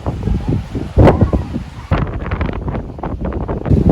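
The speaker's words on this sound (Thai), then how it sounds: "ลมแรงมาก" Strong gusts on Koh Sichang buffet the microphone in loud, uneven bursts and roar, with rustling in between.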